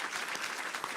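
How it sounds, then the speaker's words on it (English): A brief burst of applause from the audience at a forum for California governor candidates in Fresno, steady and fairly soft. "give them a round of applause"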